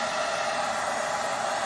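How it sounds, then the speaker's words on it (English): A hair dryer blows steadily at close range while drying a freshly glued paper craft page for a tiny junk journal, a continuous loud whooshing hum with no pauses and no talking. "I'll just get the blow dryer."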